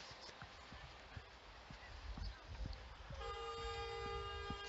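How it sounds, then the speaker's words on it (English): Car horns honking in city street traffic, a few short toots followed by a long sustained horn blast near the end over steady traffic rumble. "People are honking"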